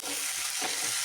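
Tomato hits frying onions in a pan for egg mandakki (puffed rice), raising a steady bright sizzle with faint stirring scrapes, close and continuous with no talk.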